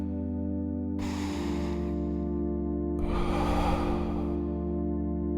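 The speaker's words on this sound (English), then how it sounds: "Breathe deeply in through your nose and breathe out slowly through your mouth." Two slow, deep breaths, each drawn in through the nose and let out through the mouth, soft airy rushes with a pause between, over a steady calm music bed.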